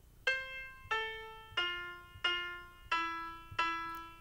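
Piano plays the higher part of the folk song "Coffee", six separate clear notes struck about every two-thirds of a second, each ringing and decaying, close and alone with no talking.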